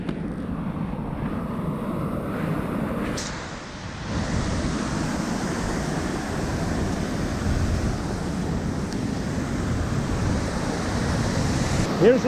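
A forest waterfall rushes in a steady, broad roar that fills the whole stretch without a break, loud and near, with a brief dip partway through.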